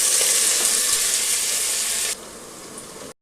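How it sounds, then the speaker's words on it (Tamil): Onions roast in a pan for mutton biryani with a steady, close sizzle that drops sharply in intensity partway through before cutting to silence. "வெங்காயம் நல்லா பொன்னிறமாக நல்லா ப்ரௌன் ஆகிற வரைக்கும் நம்ம ரோஸ்ட் பண்ணிக்கலாம்"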